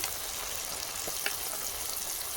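Onion and tomato sizzle steadily in a pan as garlic paste goes in, for spicy Kashmiri aloo dum. A dense, even frying hiss continues throughout, with a couple of faint clicks and no voices.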